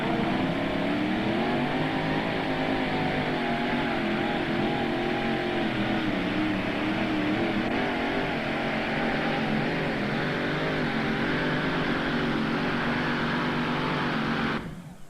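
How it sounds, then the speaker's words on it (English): Rolls-Royce V12 drag racing vehicle with a Chevrolet kicker motor, the Mother's Nightmare 2, making a pass down the track at a 1995 Turkey Day event in Imlay City, Michigan; a loud, steady engine roar holds throughout and cuts off at the end. "Down the track, the Rolls-Royce V12."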